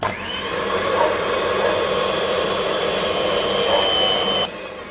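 A kitchen blending machine runs continuously while whipping homemade ice cream, a loud, steady motor whine with a sustained high tone, then drops in level near the end, with no voices.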